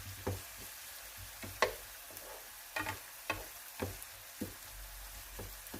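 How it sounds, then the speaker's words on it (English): Onions turning translucent in a pan give a faint, steady background sizzle, broken by sharp clicks and taps of a utensil stirring at irregular intervals. "we have our onions that are turning translucent"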